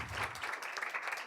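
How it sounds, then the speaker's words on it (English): Audience at a school board meeting claps for a group of students, a short burst of dense, steady applause filling the room with no voices over it. "I just want to give them one more round of applause because they are incredible"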